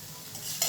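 Food frying in a pan with a soft steady sizzle and a quick stir, getting brighter and louder in a short burst at the end; quiet and close, no voices.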